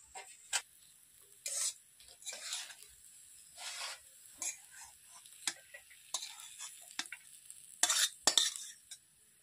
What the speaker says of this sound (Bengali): আলুর মশলাটা ভাজা হয়ে গেছে